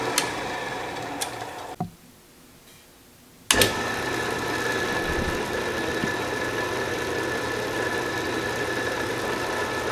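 An Atlas Craftsman metal lathe runs with a steady mechanical hum and whir, briefly stopping for a quiet moment before restarting abruptly with a thump and running on evenly.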